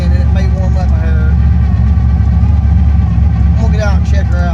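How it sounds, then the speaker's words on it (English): A rat rod car engine idles with a loud, constant low rumble close by while someone talks over it. "I'm leaving this car running."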